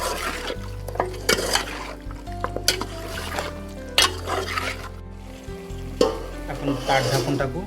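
Chicken sizzles and is stirred in a pan with garlic, ginger, salt, turmeric and coriander, a steady frying hiss broken by the scrape and clink of a utensil against the metal.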